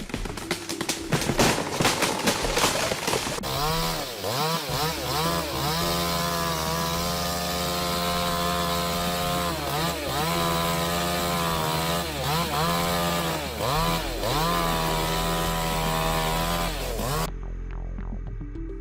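A chainsaw cutting trees: a loud, close two-stroke engine revving and bogging in repeated waves as the chain bites into wood, running continuously with the pitch rising and dipping.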